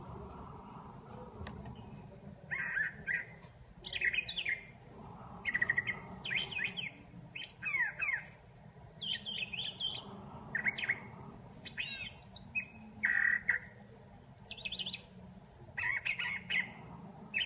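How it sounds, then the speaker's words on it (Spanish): Song of a curve-billed thrasher, a Mexican bird: varied bursts of whistled, warbling phrases repeated with short pauses, moderately close over a low background rumble, no talk. "el huitlacoche rojizo, que es un ave que está en México, también canta muchísimos tipos diferentes"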